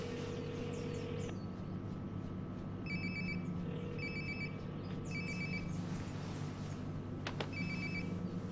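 A phone rings in Life is Strange: Before the Storm, its electronic trilling ring repeating in short bursts about once a second over a steady low hum of background ambience, with no talking.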